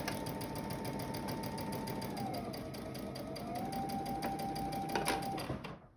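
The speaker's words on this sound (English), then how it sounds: "so I'm sewing along that curve, sewing my seams down, following the curve" A sewing machine stitches along a curved seam with a close, steady whir and rapid needle chatter; the motor pitch dips briefly midway, then runs on and winds down at the end.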